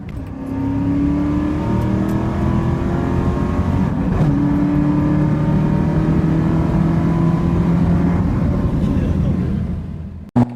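A loud LS-swapped V8 muscle car roars steadily at high revs for about ten seconds in a drag race, its pitch climbing as it accelerates hard, then cuts off abruptly.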